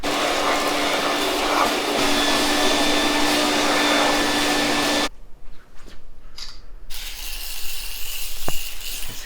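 A vacuum cleaner runs loud and steady on chair upholstery during a paid cleaning job, then cuts off about halfway, leaving quieter handling noises and faint clicks.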